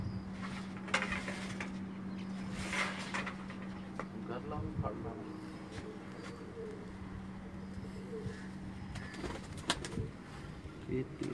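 Garla breed pigeons coo softly and repeatedly nearby while a person talks over them, with occasional wing flutters and rustling in the background.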